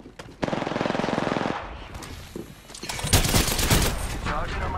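Havoc rifle in the Apex Legends Duo Arena, fired in sustained full-auto bursts: a long dense stream of rapid shots, a pause, then a second loud burst mixed with other game effects.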